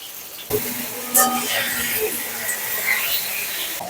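Potato pieces sizzle and hiss in hot oil in a home kitchen while a curry is cooked, a steady frying crackle with a louder burst as they go into the pan, under a speaking voice.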